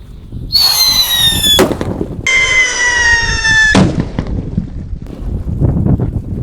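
Paper-wrapped firecrackers going off, each opening with a loud whistling squeal that slides down in pitch and ends in a sharp crack, two in a row close by, followed by crackling noise.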